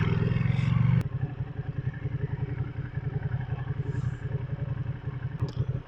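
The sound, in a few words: Ducati Panigale V2 2020 twin-cylinder motorcycle engine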